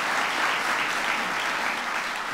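Steady, dense audience applause at a presidential event on precision medicine, a continuous wash of clapping from a sizeable crowd with no gaps across the whole stretch.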